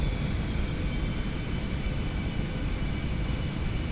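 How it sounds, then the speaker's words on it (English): An airplane in the X-Plane 11 flight simulator game rolls for takeoff, giving a constant, loud engine roar with a steady broadband rush and a faint high whine, with no voices. "We'll go ahead and swing around and take off down here."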